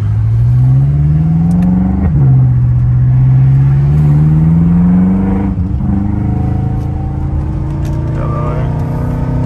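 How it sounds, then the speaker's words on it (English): A car engine roars steadily and climbs in pitch, drops sharply at a gear change, then climbs again before another shift, loud and close. "Man, this thing just sounds so good."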